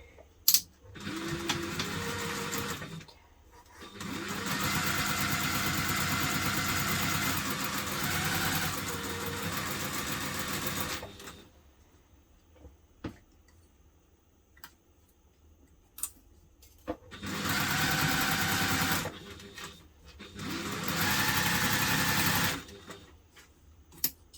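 A sewing machine bastes fabric pieces together in several loud, steady whirring runs of a few seconds each, separated by quiet pauses with small clicks and handling sounds.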